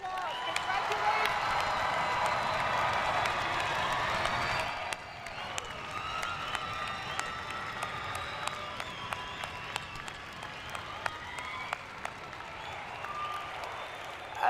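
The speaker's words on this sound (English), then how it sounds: "Let's give them another round of applause." Audience applauding the graduating School of Education class at a 2025 UVU convocation, a dense crowd of clapping with some cheering that drops to thinner, scattered claps partway through, with voices underneath.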